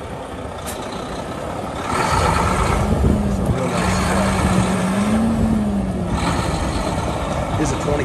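A 2013 Mack Pinnacle CHU613 truck engine fires up and settles into a steady, rumbling diesel idle beneath a voice, with a brief hiss near the start.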